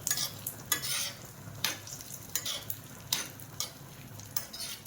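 Carrot halwa with plenty of dry fruits frying and being stirred in a pan, a steady close sizzle broken by repeated scraping strokes of a spoon about every second.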